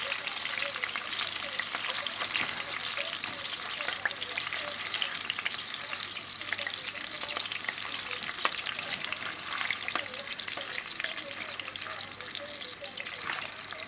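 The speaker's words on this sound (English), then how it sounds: "I'm going to finish frying these up" Food frying in a pan to get some color, with a steady, close sizzle and crackle throughout, accompanied by occasional stirring and faint watery trickling.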